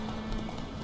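Roach, a horse in The Witcher 3 video game, gallops with quick hoof clip-clops over a steady hum in a very brief burst.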